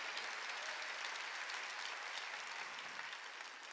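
A church congregation claps together during a Sunday worship service, a steady, even wash of applause that holds throughout and fades slightly at the end.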